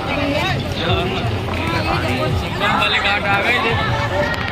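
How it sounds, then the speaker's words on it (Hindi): A large, dense crowd at the Maha Kumbh fair, a continuous murmur of many voices and footsteps close by, steady and loud throughout with no single voice standing out. "देख लीजिए भीड़ बहुत है।"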